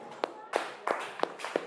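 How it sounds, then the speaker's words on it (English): Students clapping for a group in a classroom, delivered as a handful of short, sharp bursts of applause with brief gaps between them, and voices in the room. "Clap for them."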